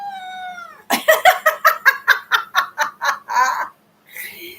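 A cat meows in a rapid series of about ten short, squeaky calls close by, ending in a longer drawn-out cry, with no talking.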